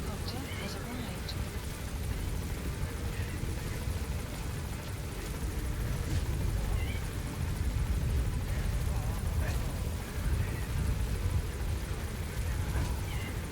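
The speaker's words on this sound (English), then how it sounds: "Support helicopter has arrived." A support helicopter in the video game Metal Gear Solid V produces a steady, dense rotor and engine rumble that holds close and loud throughout.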